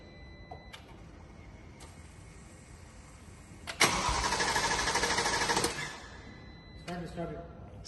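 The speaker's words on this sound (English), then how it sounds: "Derek, start the car, please." A 2021 Mercedes G63 with 108k km, in for a small engine repair, is started: a few clicks, then a sudden ignition burst into a rough, loud idle for about two seconds before shutting down, with voices in the background.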